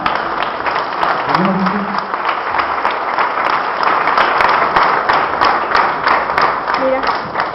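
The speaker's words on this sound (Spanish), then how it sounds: "Aplauda a Jesús." A church congregation applauds during a Christian education service, a loud, steady round of clapping from a crowd with voices calling out briefly underneath.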